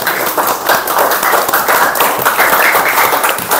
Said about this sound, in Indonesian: Sekarang beri tepuk tangan untuk kita semuanya.